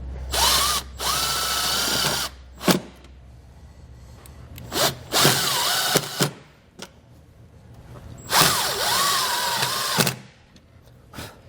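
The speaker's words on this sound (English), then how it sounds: "I'm just going to use the provided self-tapping screws to secure these down." A power drill drives self-tapping screws to fasten breakers for a trailer brake controller install, with three close, loud whining bursts of a couple of seconds each and clicks and pauses between them.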